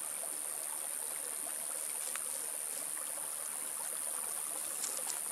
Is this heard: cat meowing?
no